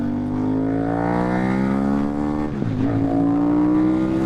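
A 2008 KTM 990 Super Duke engine revs while riding, a strong harmonic drone climbing steadily in pitch toward high rpm, dipping briefly as the throttle shifts, then rising again, loud and close.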